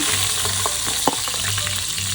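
Garlic sizzles in hot oil with a dense, steady crackle, close up, punctuated by a few light clinks of a utensil against the pan.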